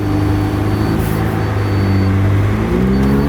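An 800 HP McLaren Elva in sport mode pulls away with a loud, close engine drone, its pitch rising and shifting as it accelerates.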